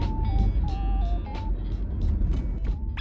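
Toyota HiAce van on a lakeside road in the evening. A steady low engine and road rumble runs throughout, joined by a repeating electronic melodic tone that rises and falls in short phrases.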